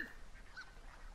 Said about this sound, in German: Was ist das für ein komischer Vogel hier